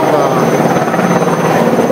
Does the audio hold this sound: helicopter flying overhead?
yes